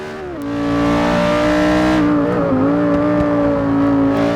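A McLaren 650S or Lamborghini Huracan race car engine in Forza Motorsport 6 revs and holds a high, loud whine through a long left-hander, pitch rising and dipping slightly as it shifts, with a brief tire squeal.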